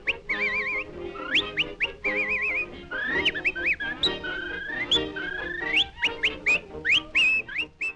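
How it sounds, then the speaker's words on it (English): Whistling from a 1927 film, The Jazz Singer, a lively tune of quick warbling trills and sliding notes, clear and close with short pauses between phrases, alone without talk. "this little clip with the whistling is a silent filmed insert"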